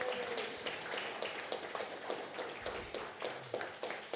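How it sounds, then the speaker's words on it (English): Soft, steady applause from a church congregation right after a baptism, a crowd of hands clapping at moderate level for about four seconds with a faint low hum underneath. "let's give her a soft round of applause"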